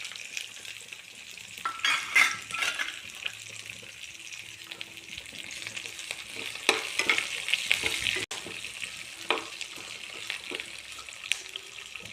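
Curry leaves and coriander sizzle steadily in hot oil while being fried and stirred for coconut chutney, a continuous crackle with occasional louder spits and spoon scrapes close by.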